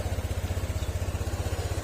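An overheating Honda Click 150 motor scooter engine idles close by with a fast, even putter; starting is not heard, just the steady running throb.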